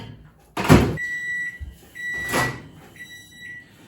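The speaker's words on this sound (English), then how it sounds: "We'll microwave that for a couple of minutes." A microwave oven heating a mug cake: two loud door or button clunks with steady electronic beep tones between them, close and without speech.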